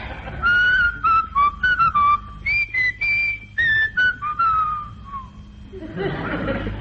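A person whistles a slow, wavering melody up close, phrase after phrase, then stops, leaving a brief burst of rustling noise.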